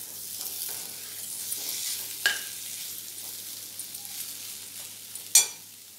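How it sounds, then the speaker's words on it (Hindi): Mixed vegetables with carrot fry and sizzle in a spiced paste, a steady close crackle broken by a few sharp stirring clatters, with no talking. "उसके बाद सारी सब्जियां इसमें थोड़ी देर भुनेंगे"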